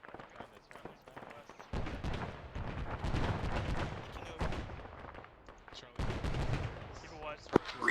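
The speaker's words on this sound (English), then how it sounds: "Got grenades going off west." Grenades burst during outdoor military platoon training, a string of sharp booms and rattling gunfire rolling through the air at a distance, with radio chatter and voices in between.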